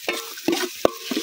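Capsicum and corn stir-fried together in a pan outdoors, a brief burst of several quick scraping stirs over a light sizzle, close and loud, without talking.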